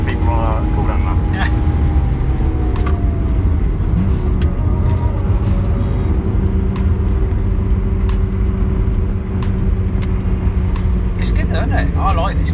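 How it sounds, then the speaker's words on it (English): A BMW E46 M3 circling the Brands Hatch GP circuit, its engine holding a steady, close droning tone with a faint rise in pitch, while voices talk over it throughout. "I like this car. Makes a nice noise."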